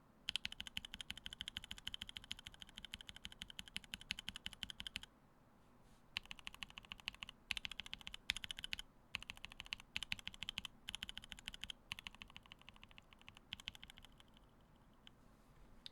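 Rapid keystrokes clatter on a mechanical keyboard with non-lubed switches, a dense close-up burst of typing that pauses briefly around the five-second mark, then resumes in uneven runs of clicks.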